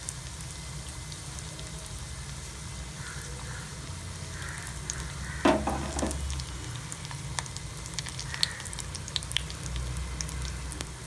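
Red chillies frying in hot oil in a pan while making raw mango rice, giving a steady soft sizzle and crackle throughout with a few sharper pops partway through.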